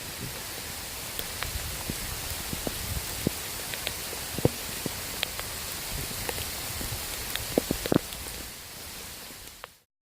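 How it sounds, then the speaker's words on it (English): Steady rain falling in the Everglades, a dense continuous patter with scattered sharper drops close by, holding even for most of the stretch before cutting off abruptly near the end; no one speaks. "Here comes the rain again"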